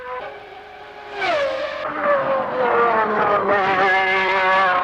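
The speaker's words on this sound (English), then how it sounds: "Soon, the car was hurtling round the track." A 1991 McLaren Honda Formula One car runs round the track, its engine note rising sharply into a sustained high-revving howl that shifts pitch through gear changes, loud and close with no talk.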